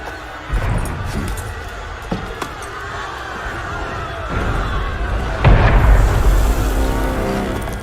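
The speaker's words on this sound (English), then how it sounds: "That was cannon fire." A deep cannon blast booms through a French Revolution street scene in Assassin's Creed Unity, landing as a heavy thud over restless crowd noise and game ambience, with a second louder rumble about two-thirds of the way through.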